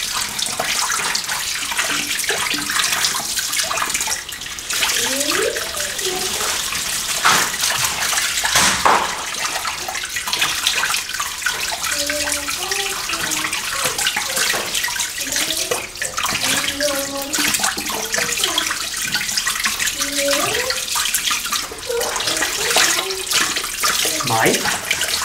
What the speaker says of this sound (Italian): Intanto sciacquo il pennello